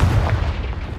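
The Confringo fire spell from Hogwarts Legacy bursts in a single loud, deep booming blast that rumbles and decays over about a second, with no voices.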